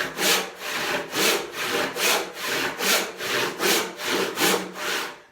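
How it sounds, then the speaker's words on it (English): A handsaw resaws an 8-inch-wide, roughly 30-inch-long walnut panel by hand, giving about eleven steady, evenly paced rasping strokes, close and fairly loud, with no voices. "So we're doing some resawing."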